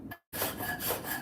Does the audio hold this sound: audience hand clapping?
no